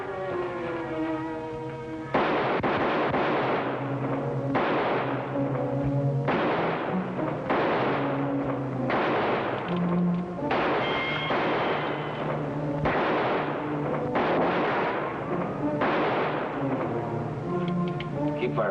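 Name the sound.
gunfire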